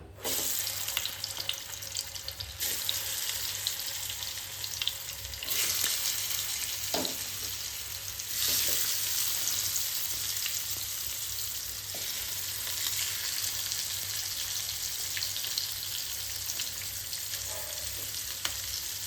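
Five or six salted pearl spot fish pieces fry in hot oil, a continuous loud crackling sizzle that rises and falls slightly over a long stretch, with no voices.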